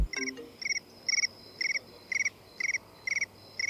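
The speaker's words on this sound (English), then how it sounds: "It's the cricket ringtone." A phone ringtone of rhythmic cricket-like chirps repeats in short regular bursts, steady and clear, with nothing else around it.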